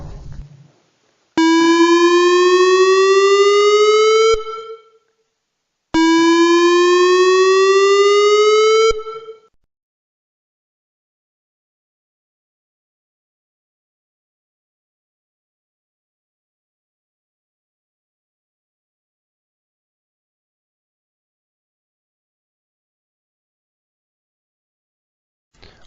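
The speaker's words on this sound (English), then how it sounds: "The first one was the dam." A dam-failure evacuation siren sounds as two loud electronic tones, each rising steadily in pitch over about three seconds, separated by a short gap and followed by long silence.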